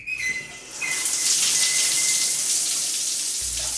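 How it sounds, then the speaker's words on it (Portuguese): Water gushes steadily from a turned-on tap, a close, continuous splashing rush that starts after a short pause and keeps flowing without talk. "É só girar o registro da torneira para a direita que a água vem."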